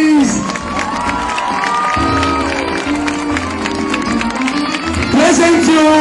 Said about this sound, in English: I present you the Whale Boys. Big applause, please.